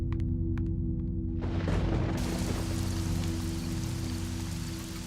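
Heavy rain in a Hindi film scene comes in suddenly after a quiet tonal music bed, becoming a loud dense downpour hiss over the sustained music with a brief rumble as it starts.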